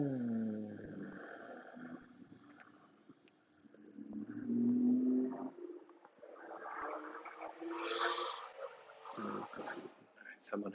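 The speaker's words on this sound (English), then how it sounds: "Someone has very loud exhaust." A car with a very loud exhaust passes outside, a rough engine roar building and fading in the distance while a person talks over it indoors.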